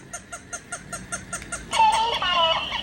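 A pet talking parrot mimics a voice, its short squawky phrases repeating in a steady rhythm before a brighter, louder burst of chattering calls near the microphone.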